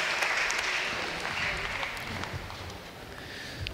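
Spectators at a university squash semi-final clap after the match point, a moderate, steady round of applause with a few sharper claps, heard at a slight distance with faint crowd murmur underneath.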